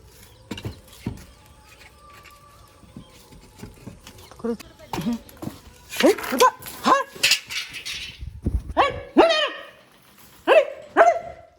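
A dog barks in several short, sharp bursts from moderately close by, grouped in clusters with pauses between, over a quiet background with some faint talk.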